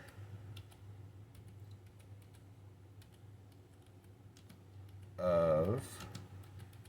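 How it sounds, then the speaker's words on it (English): Faint, sparse clicks of typing on a computer keyboard sit against a quiet room hum, with a brief louder burst of sound near the end. "I was going to type in Goodwill"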